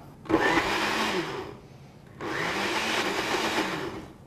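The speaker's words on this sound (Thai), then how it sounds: "เราก็แค่นำก้อนน้ำแข็งเนี่ยนะครับ มาใส่ในเครื่องปั่นน้ำครับ" Electric blender crushing ice cubes, two loud whirring bursts separated by a short pause, close and steady with a gritty churning edge, no talking.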